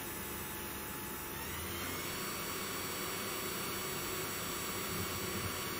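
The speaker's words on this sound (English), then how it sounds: "the noise that you can hear is the fan on the top" A DIY CNC router spindle running with a cooling fan on top, giving a steady, even whirring hum with a hiss that holds unchanged throughout.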